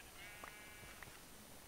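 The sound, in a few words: sheep bleating in Minecraft video game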